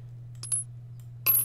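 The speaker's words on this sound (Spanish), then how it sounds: "¿Esto es una moneda?" Coins drop in the video game Plug and Play, giving a few short, bright metallic clinks over a low constant hum, with a clearer cluster of chimes near the end.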